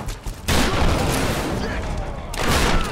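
Shotgun blasts in Tomb Raider, heavy booming fire with a dense roar of combat noise that swells, pauses briefly and surges again, loud and close.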